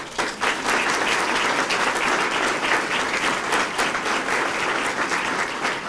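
An audience at a Sarasota police promotional and awards ceremony breaks into sustained, dense applause that stays loud and even for several seconds, with no talk over it.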